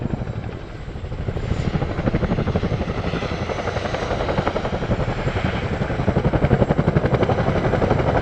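RAF Chinook twin-rotor helicopter performing at the Cosford Airshow, its loud, steady rotor thump and turbine roar filling the air continuously, close and powerful with a rapid rhythmic beating throughout.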